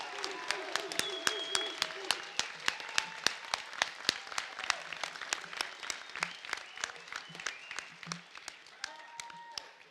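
Audience applauding at a trades commencement ceremony, steady dense clapping from a large crowd throughout, with a faint voice or tone underneath at times.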